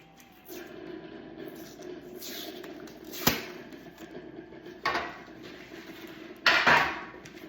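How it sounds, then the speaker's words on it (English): A Pillsbury crescent roll can being opened in a home kitchen: one sharp, close pop, followed by two rougher crinkling bursts as the cardboard tube is pulled apart, with no talking. "Go ahead and get this can open."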